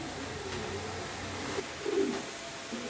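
A single soft coo from a racing pigeon rises briefly near the end over a faint, steady background hum.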